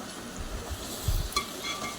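Tomatoes with tamarind cooking down in a pan for tomato chutney give a quiet, steady sizzle with soft stirring and a couple of duller scraping bumps against the pan.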